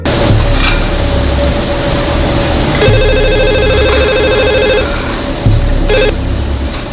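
A telephone rings in two repeated electronic trills, the second cut short, over a steady background hum.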